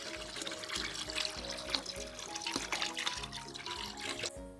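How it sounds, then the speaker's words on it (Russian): Water pours from a tap into a nearly full basin, a steady splashing gush with bubbling trickles running throughout at moderate level, no talking. "Добавим еще больше воды."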